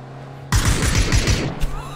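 A rapid burst of gunfire in PlayerUnknown's Battlegrounds erupts after a half second of quiet, loud and close, with sharp repeated shots rattling on for over a second.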